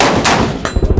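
Gunshot from a Fox Unit non-semi-automatic AR rifle at an outdoor range: a loud, sharp report followed by a second burst and rumbling echo, all within about a second.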